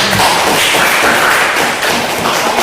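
Classroom of students applauding together, a dense continuous clapping that fills the room for a few seconds, loud and close with no talk over it.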